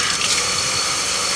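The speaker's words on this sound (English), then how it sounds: "Just keep rinsing like this. Rinse until the water is completely clear." Tap water runs steadily over washable filters from a Bissell PowerGlide Pet vacuum during rinsing, a close, continuous splashing gush with no speech.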